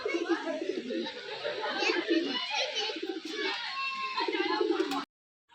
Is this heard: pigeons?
yes